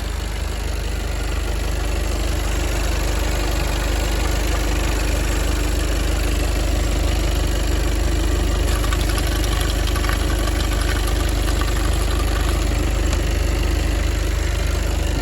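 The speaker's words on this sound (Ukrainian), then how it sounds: "Мотор працює рівно, без ударів, вібрацій не димить." A car engine idles steadily under an open hood with a smooth, continuous low rumble and no knocks, close and fairly loud throughout.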